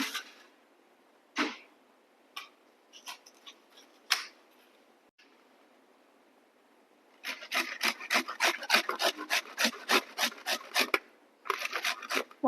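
Cauliflower being grated for gobhi paratha gives scattered single rasping strokes at first, then a quick rhythmic run of close, crisp scrapes, pausing briefly before a few more.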